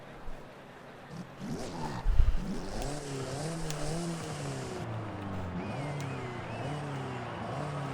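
A 2014 Alfa Romeo 4C in Forza Horizon revs and roars along a racetrack, its engine note rising and shifting through gears with a loud burst early on, then a steady mid-level drone.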